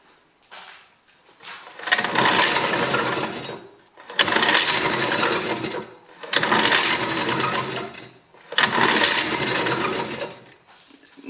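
A GDR Simson BM40-2 two-stroke lawn mower engine is pulled over repeatedly without firing: four rasping cranking bursts of about two seconds each, separated by short pauses, close and fairly loud.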